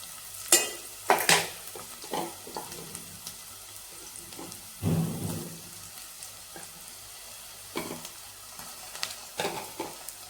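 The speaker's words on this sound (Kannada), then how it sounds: "ಈರುಳ್ಳಿ ಫ್ರೈ ಆಗಿದೆ, ಇವಾಗ ಶುಂಠಿ ಬೆಳ್ಳುಳ್ಳಿ ಸೇರಿಸ್ಕೊತಾ ಇದ್ದೀನಿ." Onion frying in a pan as ginger and garlic are added and stirred, a quiet sizzle broken by sharp scraping and clattering spoon strokes at irregular intervals.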